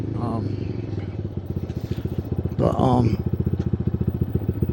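A Chinese Kawasaki-clone BD250-5 motorcycle runs on a quick ride, its engine chugging in a steady rhythmic pulse with a brief louder rev in the middle, close and continuous throughout.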